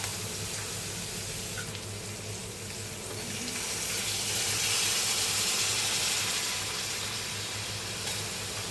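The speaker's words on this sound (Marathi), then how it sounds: "ह्याच्यात आपण पाणी टाकूया." Water is poured into a pan of fish curry in a home kitchen, a soft broadband splashing hiss that swells midway and then fades, fairly quiet, with no talking.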